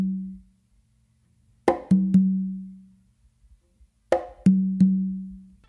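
A conga groove played twice: a sharp slap on the conga followed quickly by two resonant open tones on the tumba, each three-hit figure ringing out, close and with no talking.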